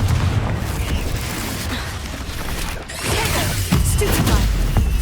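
Blasts from the Confringo spell in Hogwarts Legacy crash and boom through a busy stretch of in-game combat, with a sharp whooshing impact partway through over a continuous low rumble.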